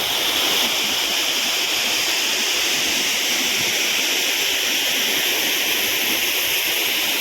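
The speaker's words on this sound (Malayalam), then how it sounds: "മലയിടുക്കിൽ നിന്ന് വരുന്ന വെള്ളമാണ് താഴ്ത്തോട്ട് വന്നിങ്ങനെ പതിക്കുന്നു" Njandirukki Waterfalls at Velliyamattam roars in a continuous, powerful rush of water falling from a rocky gorge, loud and unbroken throughout, with no talking.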